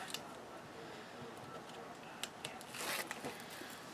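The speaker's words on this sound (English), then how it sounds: "we are going to pull the backing off the score tape on the back" Backing peeled off score tape on the back of a file folder mini album binding, a faint, brief ripping burst near the end of an otherwise quiet stretch.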